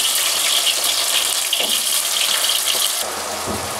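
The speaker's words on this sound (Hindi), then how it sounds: "अब इस टाइम में मैं ये सारे जिमीकंद को इसमें डाल दूँगी।" Diced elephant foot yam (jimikand) hitting hot oil in a kadai, a loud steady broadband sizzle that eases slightly after a few seconds, alone without talk.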